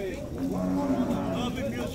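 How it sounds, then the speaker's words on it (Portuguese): Cattle low loudly at a livestock fair in Dois Riachos, Alagoas, Brazil: one close, sustained moo rising over a busy crowd murmur. "Tem, tem bastante gado aqui."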